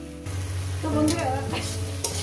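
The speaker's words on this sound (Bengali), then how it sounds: "6 মিনিট ধরে আমি শাকটাকে ভেজে নিয়েছি।" Water spinach (kalmi shak) stir-fried in a pan for a mashed bharta with fish, giving a steady loud sizzle and frying hiss with rustling stirring throughout.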